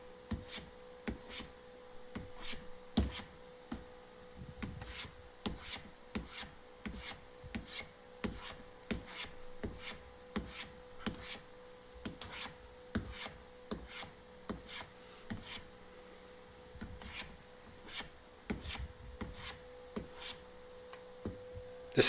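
A hand tool cuts and rasps along a hard American oak leg being tapered, giving a steady series of short, fairly quiet scraping strokes in a regular rhythm over a faint constant hum.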